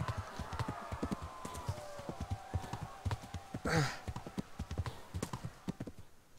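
A horse gallops in Kingdom Come: Deliverance, its hooves drumming in a fast, steady clip-clop rhythm. A brief whooshing rush passes midway, and a faint tonal line runs underneath.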